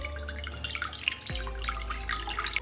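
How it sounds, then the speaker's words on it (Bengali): Water pours from a tap into a wok set with a rack and a steel tiffin bowl for steaming prawns, a steady close splashing stream with dripping that keeps running throughout. "এবার বাটিটা প্রায় ডুবো মতো করে জল দিয়ে দেব।"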